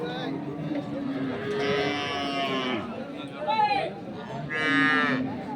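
Dairy cows with calves at the Ambari cattle market in Dinajpur: several drawn-out moos sound from nearby over a crowd murmuring, and people talk throughout.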